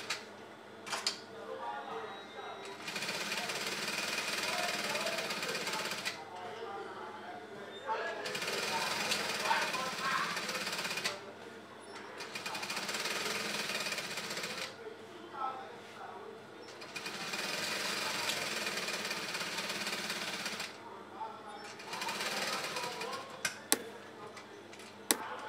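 A sewing machine stitching on top of a cap lining runs in several rapid, rattling bursts of a few seconds each, separated by short pauses, fairly close and moderately loud.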